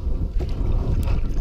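Canoe paddling on open water during a South Dakota canoe and kayak race, a steady wash of water and wind with soft paddle splashes, close to the microphone.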